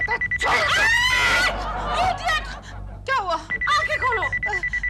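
Telephone bell ringing in repeated bursts at night, loud and near, partly under a shouting, agitated voice and a second speaker.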